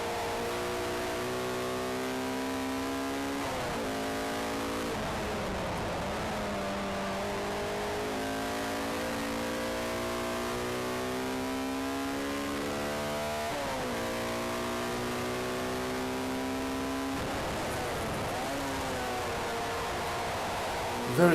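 Race car engine at Brands Hatch GP circuit revving repeatedly toward a 9,000 RPM red line, rising pitch sweeps broken by brief gear-change dips, steady and fairly loud from inside the car.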